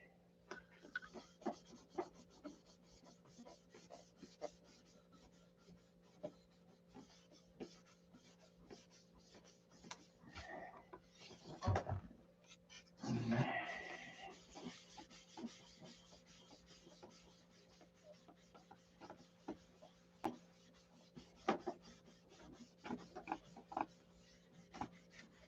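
Faint, steady rubbing strokes as an object is polished by hand, a soft continuous scratchy friction with a louder burst of vigorous rubbing in the middle, set against a low background hum.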